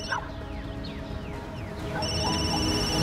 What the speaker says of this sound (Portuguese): De manhã, quando eu acordei, o meu telefone tocou.